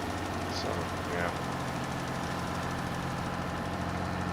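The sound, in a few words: medium-sized tractor engine idling in a farming video game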